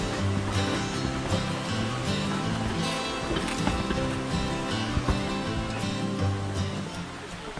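Constant roaring rush of Teşvikiye Waterfall in Çınarcık, Turkey, loud and close, with a steady broadband texture and no pauses.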